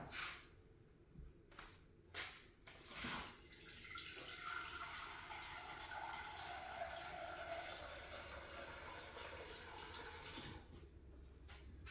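Tap water running steadily into a cooking pot to boil for homemade pasta Bolognese, a continuous close rushing pour lasting most of the time after a few brief splashes and clunks.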